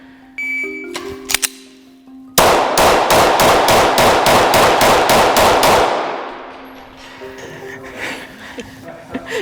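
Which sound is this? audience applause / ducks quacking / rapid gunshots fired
rapid gunshots fired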